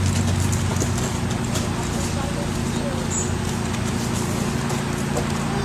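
A BLM mustang being ridden during retraining, hooves thudding in a steady walking rhythm under a constant low background hum, fairly close and even throughout.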